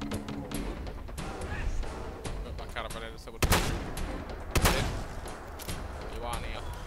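Gunfire in the video game Fallout 4, with several sharp shots scattered through the stretch and two heavier bursts in the middle, heard beneath someone talking.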